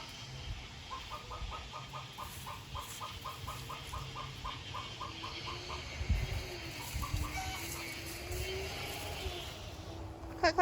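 Silkie chickens cluck in a quick rhythmic run of soft calls, close by, with more scattered clucks and a faint rumble in the background.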